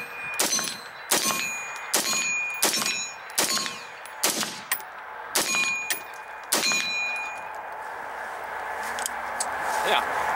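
AR rifle fitted with an upgraded aftermarket trigger emptying the rest of its magazine outdoors: about eight sharp, evenly spaced shots, each with a ringing clang, over a low background hiss.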